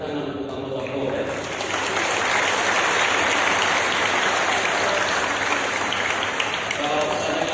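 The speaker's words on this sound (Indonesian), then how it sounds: "mari kita tepuk tangan untuk anggota Polres" Crowd applause for police officers at a Javanese-custom Catholic Mass swells quickly and holds as a dense, steady clatter of clapping hands.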